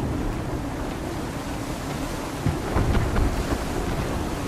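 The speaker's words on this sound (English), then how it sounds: "That wind will push us hard up those rocks!" Heavy storm wind gusts over the sea in the Assassin's Creed 3 video game, a continuous loud roar of wind and water that swells with stronger gusts near the end, with no talking.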